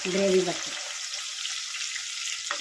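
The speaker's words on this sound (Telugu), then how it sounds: "కొంచెం లైట్ బ్రౌన్ అయ్యేంత వరకు ఇది ఫ్రై చేసుకోవాలి" Sliced onions fry in hot oil in a kadai for a chickpea-flour curry, giving a steady close sizzle. A short voice sits at the start over the frying.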